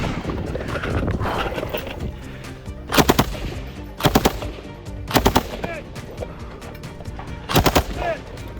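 A machine gun fires at a shooting competition in four short, sharp bursts of rapid shots spaced a second or two apart, loud and close over outdoor background noise.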